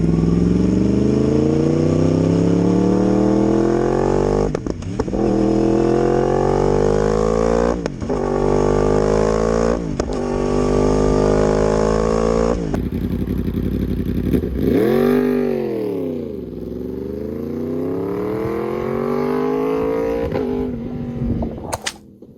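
Pontiac Trophy 4 inline-four engine, half of a V8, running with uneven firing intervals, giving a lumpy, scrambled rumble; loud and close, revving up and down repeatedly with sharp throttle blips and a deeper swoop near the end.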